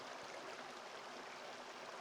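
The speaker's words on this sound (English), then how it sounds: "Here's the first stream crossing." Water running in a stream at a hiking trail crossing through sandy, sparse forest, a steady broadband rush that stays even and fairly faint throughout, with no voices.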